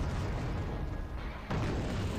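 Artillery shells land in the Wargame Red Dragon video game with dense, rumbling booms, one continuous heavy blast that dips briefly and then surges with a fresh impact halfway through.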